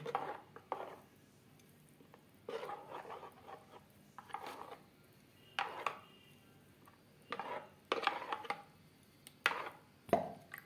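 Vegetables are chopped for vegetable rice chilla, a series of close, crisp knife strikes on a board in short irregular bursts separated by quiet pauses.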